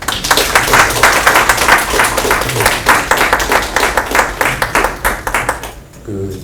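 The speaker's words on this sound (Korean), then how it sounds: "앞으로 모실 텐데 크게 박수로 환영해 주시기 바랍니다" A seminar audience at a defense university research colloquium welcomes the speakers and panelists with loud, sustained applause, a close dense rattle of many hands clapping that fades out near the end.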